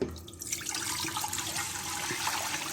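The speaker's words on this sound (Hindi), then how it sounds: "ये मैं पानी डाल रही हूँ।" Water pours steadily into a cooking pot for chicken yakhni pulao, a loud continuous splashing gush close by that runs the whole stretch without talk.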